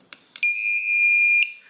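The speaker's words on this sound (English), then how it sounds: "So once you hear that long beep, release it." Long continuous electronic beep from a Kwikset SmartCode 260 smart lock during a factory reset, preceded by two short clicks, holding steady for about a second before cutting off, loud and close with no talking.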